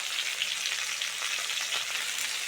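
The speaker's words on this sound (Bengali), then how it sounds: "কুমড়ো আর আলুটা ভালো করে ভেজে নিয়েছি, এবার লবণ দিয়ে দেবো।" Pumpkin and potato pieces frying in a pan for a vegetarian curry, a dense steady sizzle and crackle of hot oil, close and continuous, with no voices.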